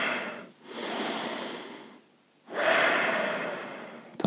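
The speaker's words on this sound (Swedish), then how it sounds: "Fria öppna andetag in och ut genom näsan." Slow breathing in and out through the nose during a morning yoga session, two long airy breaths close to the microphone separated by a short quiet pause, with no talking.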